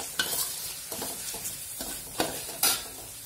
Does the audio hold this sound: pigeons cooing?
no